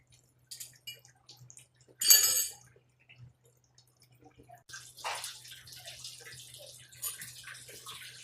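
Clogged water drains out of a Samsung front-load washing machine during an acid-wash service, heard as intermittent splashing and a gushing pour, then a longer steady trickle of running water.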